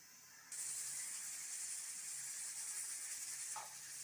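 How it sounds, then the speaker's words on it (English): A pressure cooker of vegetable biryani rice vents steam in a loud, steady hiss that starts abruptly and runs continuously, with a brief sputter near the end and no talking. "When the steam comes up, we'll close it with the weight."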